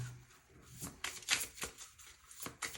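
Tarot cards are shuffled by hand at close range, a quiet series of crisp riffling and sliding bursts in an irregular rhythm with no talking.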